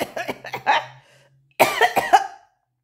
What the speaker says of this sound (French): Je suis en train de tousser